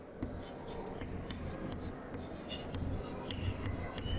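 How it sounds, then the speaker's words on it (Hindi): Pen or chalk writing during a maths lesson, quiet scratchy strokes in short repeated bursts, close up, with faint background murmur and no clear talking. "तो सबसे पहले हम लिखते हैं"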